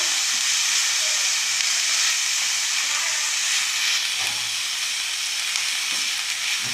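A chicken patty frying in hot oil gives a continuous, even hiss and sizzle that stays close and steady throughout, with no voices.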